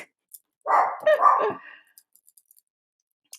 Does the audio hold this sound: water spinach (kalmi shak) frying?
no